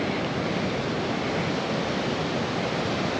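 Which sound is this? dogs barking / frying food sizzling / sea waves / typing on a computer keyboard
sea waves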